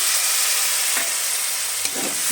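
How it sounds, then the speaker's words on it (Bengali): Spices and masala paste with ginger paste, cumin, coriander and chili powder sizzle steadily in a pan for village-style vegetable dal, a continuous close frying hiss with a couple of faint stirring scrapes. "দিয়ে ভালো করে এখন কষিয়ে নেব"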